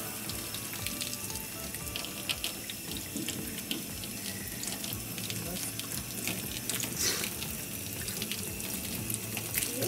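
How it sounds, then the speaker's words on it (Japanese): A handheld shower sprays water at reduced pressure over a dog's face during grooming at a trimmer school, a steady close hiss with splashing. "顔はシャワーの強さをちょっと弱めてやっていきたいと思います。"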